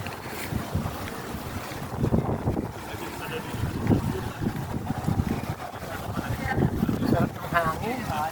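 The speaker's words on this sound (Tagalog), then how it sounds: "Hangin." Gusty wind buffeting the microphone in a loud, continuous rumble, with water and boat-like noise mixed in and voices talking intermittently over it.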